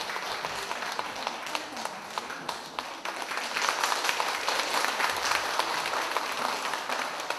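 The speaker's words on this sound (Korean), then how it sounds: "젊어지는 동안성형이란 주제로 강연을 해주실 이명종 원장님을 힘찬 박수로 맞이하겠습니다." Sustained audience applause, many hands clapping steadily and loudly throughout, swelling slightly partway through.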